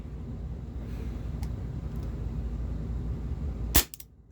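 Single sharp crack of an Umarex Walther P38 4.5mm CO2 air pistol firing near the end, a short close pop with a brief tail, after several seconds of steady low background rumble.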